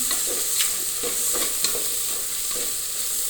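Ginger garlic paste sautéing in a hot pan, a steady soft sizzle with light intermittent stirring taps, no talking.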